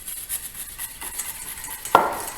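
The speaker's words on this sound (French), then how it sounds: "Et on y va pour le fouettage." Powders being whisked into homemade deodorant in a bowl, soft repeated scraping and stirring strokes, faint and close, with one sharper clink of the whisk against the side near the end.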